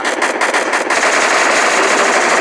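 Rapid machine gun fire in a video game, a loud continuous burst of dense, closely spaced shots lasting the whole moment without speech.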